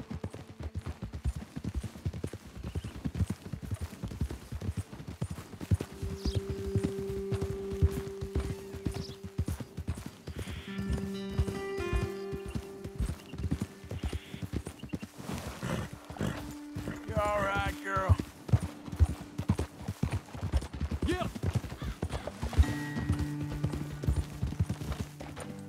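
Horses walking along a trail in the Red Dead Redemption 2 video game, their hooves clip-clopping in a steady rhythm under game music and character dialogue, with a brief whinny partway through.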